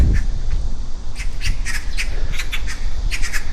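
Harsh bird squawks burst out repeatedly from a nearby tree, overlapping in irregular clusters over a low rumbling outdoor background.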